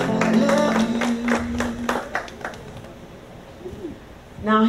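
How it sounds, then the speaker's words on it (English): Scattered hand claps from an audience at a fashion show, a few sharp, uneven claps mixed with voices, thinning out midway before a louder burst of sound at the very end. "Clap your hands one more time for Olu."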